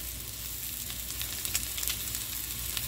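Raw shrimp fry in olive oil in a pan, giving a steady, close sizzle with small scattered crackles and pops throughout and no voices.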